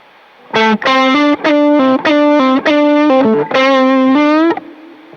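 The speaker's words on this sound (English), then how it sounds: "this tube screamer on, and kind of like play a phrase with it" Distorted electric guitar playing a short phrase of chords and notes through a Tube Screamer overdrive pedal, loud and up close, with a brief ringing tail.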